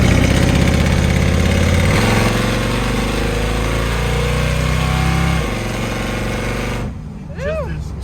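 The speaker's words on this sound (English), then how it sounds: "Why do they make cars like this now that sound like this" A 1946 Chevrolet Business Coupe restomod engine idles close by with a deep, steady throbbing rumble that dips slightly in level partway through, then drops away near the end as a voice briefly comes in.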